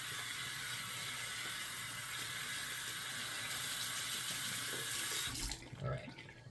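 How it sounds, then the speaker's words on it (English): A shaving brush rinsed under running tap water, a steady close hiss of flowing water for about five seconds that cuts off abruptly, followed by a few faint handling clunks. "Let me just kind of do a quick little rinse off of the brush,"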